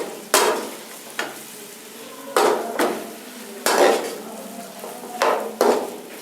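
Beef karahi with red chili and spices being stirred in a pot, with about six scraping, clanking strokes of a metal spoon against the pot, spaced irregularly and fairly close, with no talking.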